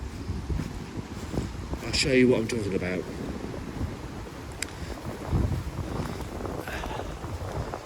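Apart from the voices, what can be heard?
wind blowing into microphone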